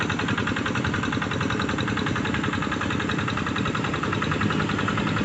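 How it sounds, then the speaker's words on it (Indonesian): A hand tractor engine chugs steadily while levelling a rice paddy field, a continuous rhythmic mechanical drone heard up close with no voices. "traktor tangan sedang meratakan, sedikit lagi mau selesai."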